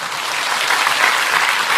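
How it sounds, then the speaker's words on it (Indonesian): A crowd at an Indonesian gathering applauds, dense and steady clapping filling the space throughout, loud and close. "Tepuk tangan untuk Indonesia."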